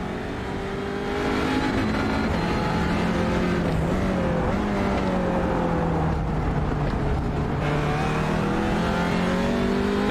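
An Audi TCR race car laps Okayama in a racing video game, its engine droning loud and close with rising and falling pitch through shifts and a lift into a corner, and no talk over it.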